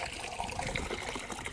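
Water pours steadily into a vessel while fish are being washed, a continuous close splashing trickle with no pauses and no talk.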